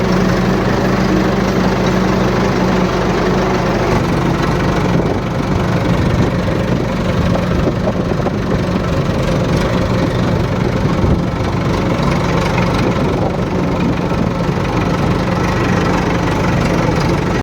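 A tractor engine idles steadily in a village setting, a continuous low mechanical rumble with slight knocking that stays close and constant throughout, with no talk over it.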